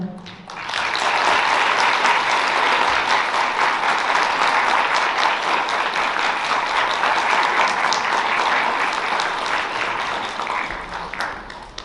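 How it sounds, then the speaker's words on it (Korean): Wedding guests applaud at a ceremony hall, a full, even wave of clapping that swells quickly, stays strong for several seconds and tapers slightly at the close. "내빈 여러분께서는 너그러운 마음으로 큰 박수로 화답하여 주시면 감사하겠습니다"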